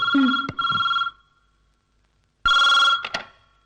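An electronic telephone ring sounds twice in close succession, followed by a second of silence and then another ring burst, loud and nearby.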